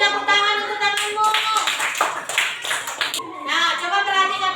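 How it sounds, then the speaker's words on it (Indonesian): Classroom students clap for a classmate in a short burst of quick, close hand claps, with a teacher's voice talking before and after it. "kasih tepuk tangan untuk temanmu"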